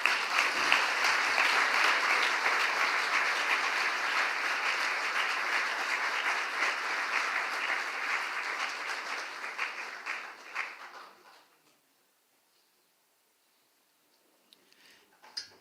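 An audience at a National Sadhana Meeting applauds after a talk: about ten seconds of full, steady clapping that thins and dies away into near silence, with a few faint clicks at the end.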